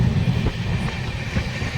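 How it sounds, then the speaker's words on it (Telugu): A train departing Vijayawada station, rumbling steadily with a low, heavy roar and faint rhythmic clatter of wheels, no voices. "మళ్ళీ ట్రైన్ బయలుదేరింది"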